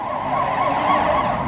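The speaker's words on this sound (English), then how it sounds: "The police car had broken free of the traffic just too late to catch them." Police car siren wailing loud and close in a steady rising and falling tone, alone with no talk over it.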